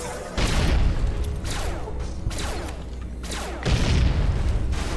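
Grenade blasts in Fallout: New Vegas, a series of heavy booming explosions rolling one after another at close range, loud and dense with low rumble, with some game noise layered in between.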